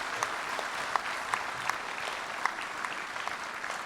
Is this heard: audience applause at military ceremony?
yes